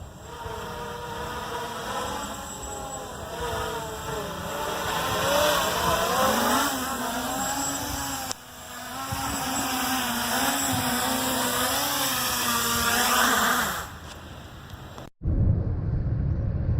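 Bugs 3 drone flying into the wind outdoors, its motors giving a steady buzzing whine that rises and wavers in pitch, loud and continuous, then cuts off abruptly into a short burst of wind rumble.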